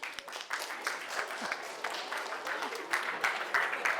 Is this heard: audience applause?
yes